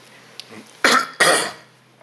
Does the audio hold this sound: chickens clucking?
no